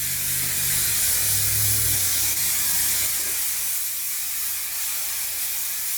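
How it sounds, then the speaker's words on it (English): A steady, hissing spray from a hairspray can runs continuously for several seconds, close and fairly loud, with no talking. "You shake your can, you spray this on all over."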